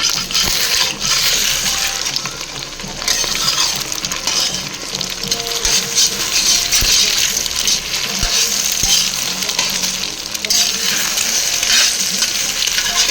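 Fried rice is stirred and tossed in a sizzling pan, with continuous frying hiss and scraping spatula sounds, occasional sharp clinks, loud and close throughout.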